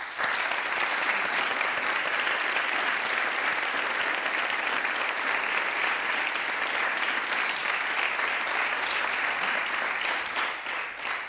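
A television studio audience applauds guest actors Manuela Maria and António Cerdeira, a full, sustained wash of clapping that stays even and loud for over ten seconds before easing slightly at the end.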